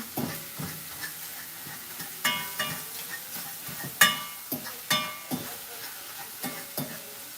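Cornbread stuffing frying and browning in a pan, a constant bright sizzle punctuated by repeated scraping stirs and utensil knocks against the pan at an uneven rhythm, close and fairly loud.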